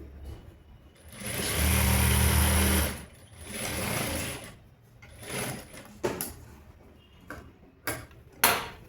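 A sewing machine stitches blouse fabric during tailoring of a semi kotori blouse, with a steady motor run in the first seconds, then shorter bursts and sharp clicks and knocks, close and moderately loud, with no talk.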